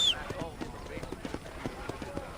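Horse hooves clop at a steady quick rhythm in the Red Dead Redemption video game, a run of evenly spaced soft thuds at moderate volume under a faint background bed.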